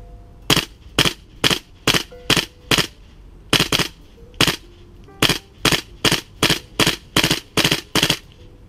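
A Tokyo Marui M4 MWS gas blowback airsoft rifle on green gas, in cold weather, fires about twenty sharp, loud reports close up. The shots come singly and in quick pairs at a rapid, uneven pace until the magazine runs dry.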